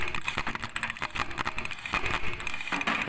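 An old hot fogging machine engine idles at low speed close by, giving a loud, rough, rapidly pulsing putter that runs steadily throughout.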